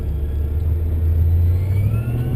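A Holden VE Maloo ute with a 402 LS2 V8 and 4L80 automatic accelerates from a rolling start, giving a loud, close, continuous engine rumble that climbs gradually in pitch.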